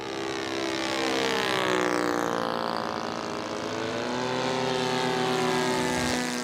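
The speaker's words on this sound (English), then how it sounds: "The wide variety of radio-controlled aircraft range from warbirds, which are replicas of World War I and World War II aircraft, ultralights, recreational planes and commercial aircraft" A radio-controlled model aircraft flies at an air meet, its propeller engine droning steadily and fairly loud as it passes, with the pitch sliding slowly up and down.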